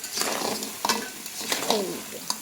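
Crab pieces and spice masala are stir-fried in a pan, giving a steady sizzle with repeated scraping strokes from a spatula, close up and fairly loud with no talking.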